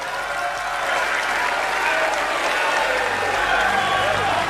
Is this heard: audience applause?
yes